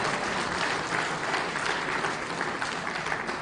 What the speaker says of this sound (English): I think they deserve a more resounding applause.